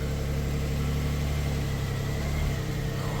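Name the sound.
Smart car fitted with snow tracks driving forward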